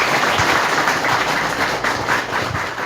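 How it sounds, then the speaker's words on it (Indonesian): Audience at a Tagana youth disaster-volunteer training event in Temanggung breaking into sustained applause, a dense wash of clapping that stays loud and steady throughout with no voices over it. "Mohon tepuk tangan dong."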